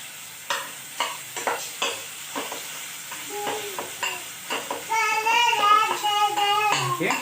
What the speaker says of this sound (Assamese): এতিয়া মই এইখিনি অলপ লাৰি দিম।